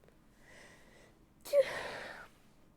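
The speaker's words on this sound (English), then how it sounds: "I've sneezed all my sneezes" A single sharp sneeze from someone who has been ill with Covid, a loud burst after a soft intake of breath, close and alone with no talking.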